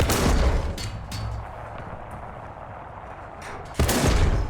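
Tank cannon fire and nearby gunfire in War Thunder, with a Strv m/41 S-II facing a Panzer 4G: loud booming shots at the start and again near the end, with a rumbling battle background in between.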